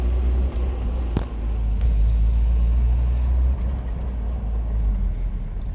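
Toyota pickup with a 22RE engine driving in gear, a steady loud low engine and road rumble with a brief sharp knock near the start.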